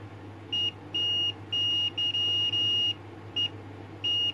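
A multimeter continuity tester checking an AF117 transistor in a Roberts R300 radio gives a series of clear, high steady beeps of varying length, some brief and some sustained, over a quiet background hum.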